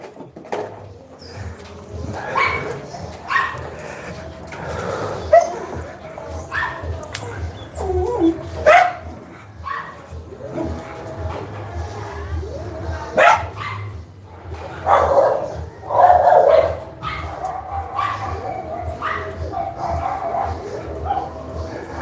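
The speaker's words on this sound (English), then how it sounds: "leave that wiener dog alone" A dachshund barks in sharp bursts and whimpers and yips between them, loud and close indoors over a long stretch, with a person's voice heard at times.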